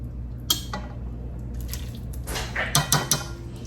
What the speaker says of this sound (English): And just keep straining